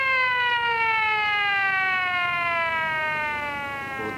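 A loud ambulance siren holds one steady, slowly falling tone that fades a little toward the end, with no voices over it.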